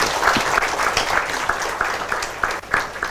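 An audience at an open session applauds with steady, dense clapping that continues for several seconds at moderate volume.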